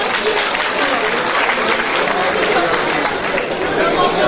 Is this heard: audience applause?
yes